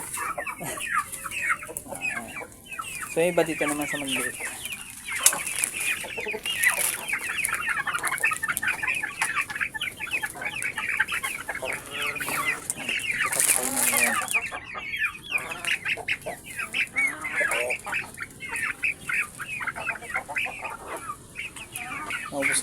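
Backyard chickens clucking steadily, fed fallen bananas on a Philippine farm, with someone talking over them throughout the clip.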